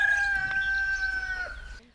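A rooster crows loud and close on an eco-social farm, one sustained cock-a-doodle-doo with a steady tonal call that fades out at the end.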